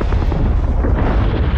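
Movie explosion in a Maze Runner: The Death Cure battle scene, a loud, dense, rumbling blast that fills the whole short moment without any speech.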